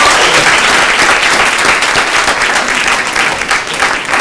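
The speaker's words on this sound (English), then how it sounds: "One more round of applause for" Sustained audience applause fills the room at a student government (SGA) meeting, dense and steady clapping with no talk over it.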